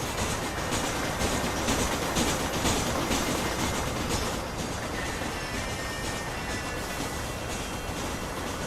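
Old steam train rolling along in Red Dead Redemption, giving a continuous loud, dense rumble of wheels and carriages with faint clickety-clack. It stays steady throughout, with no voices.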